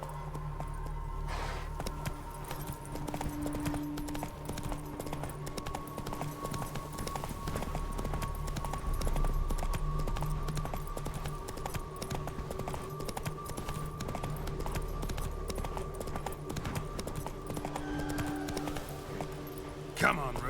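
Clip-clop hooves of Roach, a horse in a video game, keep up a steady rhythm under a continuous low musical drone, with a player speaking over them.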